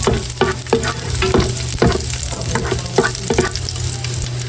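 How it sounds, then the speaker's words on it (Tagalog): Garlic sautés in hot oil for a chicken arroz caldo, giving a loud, close sizzle with a low steady hum and repeated sharp stirring clacks of a utensil against the pan. "Akin na pong igigisa itong mga bawang."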